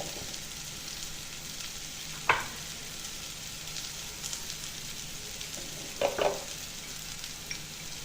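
Spices sizzle steadily in a hot pan as chili, turmeric and coriander powder are sautéed, with a faint continuous hiss broken by two brief scraping stirs of a spoon.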